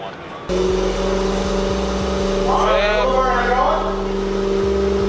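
A Corvette engine revs hard and holds at high pitch through a burnout at a Carlisle car show, loud and close, with a crowd voice shouting over it.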